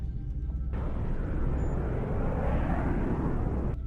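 A steady, loud roar of an interceptor jet engine in the video game XCOM Enemy Within, swelling in and holding as a continuous rushing drone with no speech over it.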